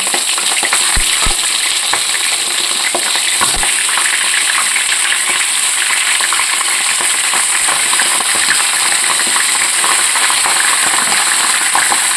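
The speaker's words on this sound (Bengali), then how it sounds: "তেলটা এদিকে গরম হয়ে গেছে মাংসগুলো দিয়ে দেব মাংসগুলো একটু আছে ভেজে নিচ্ছি" Chicken pieces fry in hot oil in a home kitchen, giving a steady, close, broadband sizzle throughout with a few sharp clinks of a utensil against the pan near the start.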